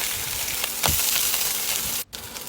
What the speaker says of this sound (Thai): ทอดให้เหลืองประมาณนี้ก็พอ